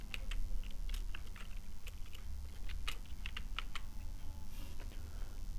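Keys clatter on a computer keyboard while a word is typed into a Microsoft Word search box, a quick irregular run of close clicks over a steady low background hum.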